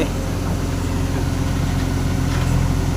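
A tractor engine runs steadily in a farm field during land-levelling work, a constant low rumbling drone that stays near and unchanging throughout.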